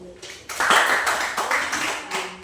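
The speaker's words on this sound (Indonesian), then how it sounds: "kalau tidak ada tolong tepuk tangan dulu" A group of people in an Indonesian gathering breaks into clapping after a brief quiet start, a loose, roomy burst of many hands that swells, dips and continues at moderate loudness.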